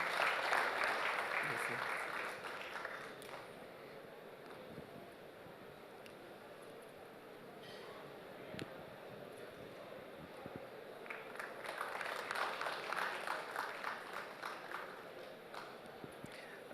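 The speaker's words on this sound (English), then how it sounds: "Can we have a round of applause for Dr." An audience claps at the Poultry Federation of India's annual general meeting. The applause is moderate, fades and then rises again, and a speaker talks in between amid faint room noise.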